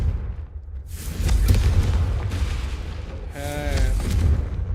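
Confringo spell blasts in Hogwarts Legacy, a series of booming explosive bursts over a rumbling low background, with a brief tonal whoosh near the end; loud and close.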